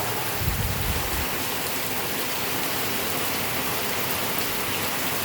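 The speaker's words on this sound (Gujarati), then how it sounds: "હમણાં જ ફૂલ વરસાદ ચાલુ છે" Heavy monsoon-style rain pours down on a village in Rajkot in a dense, constant hiss, close and loud throughout, with a brief low rumble at the start.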